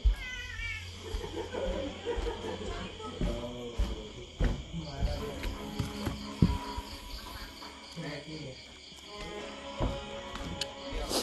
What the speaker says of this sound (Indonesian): Apakah ada kucing di depan Anda? Oh ya, ada.